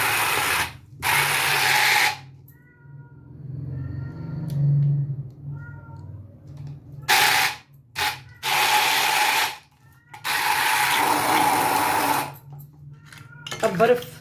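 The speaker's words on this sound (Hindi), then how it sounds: "पानी हाफ, थोड़ा सा इसको हम कर देंगे ब्लेंड" A kitchen blender whirs in several loud bursts separated by short pauses while falsa berries, black salt and water are blended into sharbat.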